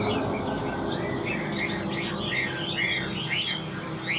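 A Chinese hwamei (họa mi) songbird sings loudly and continuously, with a rapid, varied warbling run of high whistled phrases over a steady low background hum.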